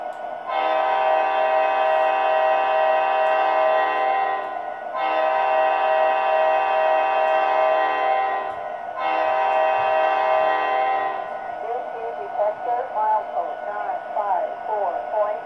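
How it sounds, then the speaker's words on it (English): A multi-tone horn from an MTH Premier EMD SD70ACe model locomotive with Proto-Sound 3.0 blasts three long times with short gaps, fairly loud, followed by quieter chatter and background sounds. "So let's first go off with the horn."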